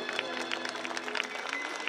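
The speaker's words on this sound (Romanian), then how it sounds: "Aplauze pentru profesori!" An audience at a cultural and artistic event honouring education workers applauds the teachers, a continuous patter of many hands clapping at moderate volume with a faint voice underneath.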